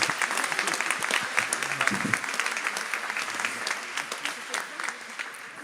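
A crowd applauds steadily for a staff member at a Radio Maria gathering, dense continuous clapping with a few voices murmuring underneath, fairly close and sustained across the whole stretch.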